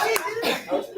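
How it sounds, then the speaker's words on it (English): Scattered hand clapping from an audience at a Kwanzaa celebration in a neighborhood center, a few irregular claps mixed with murmuring voices. "I think y'all deserve a round of applause."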